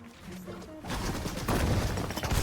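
Rapid pistol gunfire in a video game, a dense burst of sharp shots and clatter, loud and close, crowding the second half, with no one talking.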